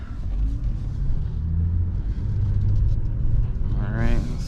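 A 2020 Honda Passport EX-L engine idles with a low, even rumble close by, and someone speaks briefly over it near the end.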